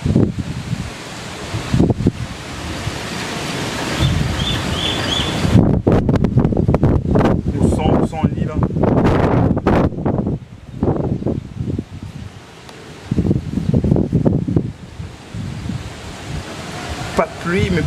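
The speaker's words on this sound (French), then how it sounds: "Pas de pluie, mais beaucoup de vent." Strong gusting wind from Cyclone Batsirai roars and rustles without rain, surging in broad loud bursts with brief lulls, buffeting the microphone close up.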